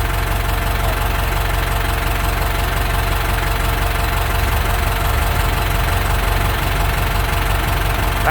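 A Ford 6610 single-power tractor in good running condition idles steadily with a constant low engine rumble and a faint knocking throb, close by and unbroken for the whole stretch, with no voices.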